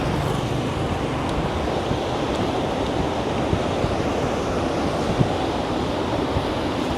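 Strong ocean waves make a continuous roar of surf, loud and close, with wind buffeting the microphone and no voices over it.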